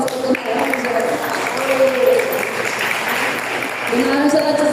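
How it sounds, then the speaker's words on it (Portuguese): Applause from the audience at a Brazilian folklorists' congress, honouring a participant, heard under overlapping voices and chatter, swelling slightly midway and again near the end. "uma salva de palmas para Dona Ângela."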